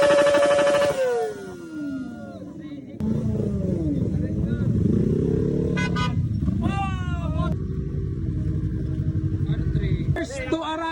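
A bao-bao motorized tricycle arrives at an endurance tour checkpoint, its engine droning steadily while several horn toots ring out, with a crowd cheering and talking loudly over it.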